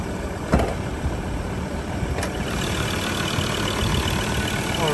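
A 2021 Ford Ranger XLT 3.2L diesel pickup engine idles steadily at close range, a low continuous rumble with a couple of brief clicks early on.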